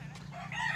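Gamefowl roosters crow faintly in the distance on a brief stretch of farmyard ambience, with no speech.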